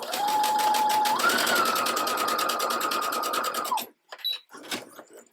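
A sewing machine stitches a zigzag test seam on stretch lace in a fast, steady whir with a rapid mechanical patter and a slight rise in pitch, then stops abruptly, leaving a few light clicks.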